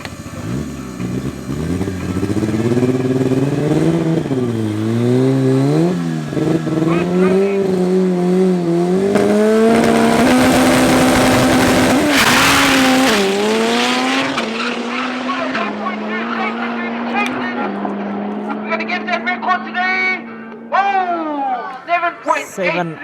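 A four-cylinder race car at full throttle at Tarlton Raceway during a club event, the engine wailing through rising gear changes, passing loudly close by and then fading into the distance, with a commentator talking over the last stretch.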